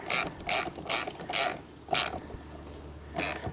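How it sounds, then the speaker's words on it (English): A socket ratchet tightens a nut on a $150 spree vehicle build, giving six sharp bursts of close, loud clicking with short pauses between strokes and a longer gap before the last burst. "Then we do the double ratchet."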